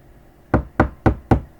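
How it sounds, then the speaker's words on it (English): Four firm, evenly spaced knocks on a door sound close and crisp against a quiet background, each a sharp thud. "Let's say he did knock."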